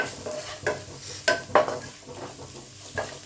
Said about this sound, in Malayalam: മണമൊക്കെ ഒന്ന് മാറുന്നത് വരെ നമുക്ക് നന്നായിട്ടൊന്ന് ഇളക്കി കൊടുക്കാം